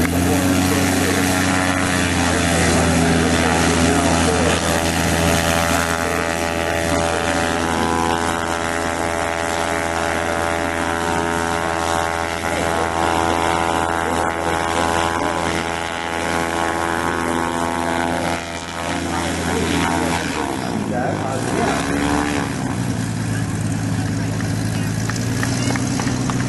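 Propeller aerobatic airplanes flying maneuvers at the 2004 Rhode Island Air National Guard open house airshow, a loud sustained droning engine tone with strong harmonics that shifts in pitch near the end as a plane passes, faint crowd voices underneath.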